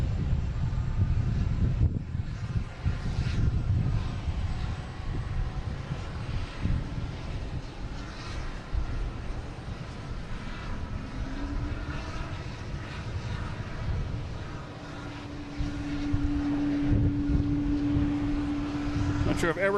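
A Copa Airlines jet from Panama City arrives at Boston Logan International Airport. Its engines make a sustained, fairly distant roar that swells and fades, with a voice talking over it.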